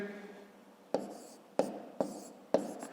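A pen or chalk taps and scratches out numbers during long division in a fifth-grade math lesson: four sharp strokes spaced unevenly, close and distinct over a faint background hum.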